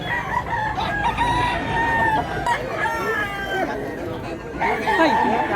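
A nine-month-old stag rooster crows in a barnyard in Mantalungon, Barili, Cebu, with drawn-out crows rising over clucking fowl while people talk nearby.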